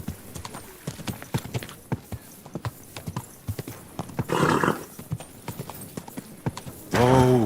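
Hooves of a horse in Kingdom Come Deliverance 2 clip-clop in a steady, close walking rhythm, with a brief noisy snort midway and a short neigh at the end.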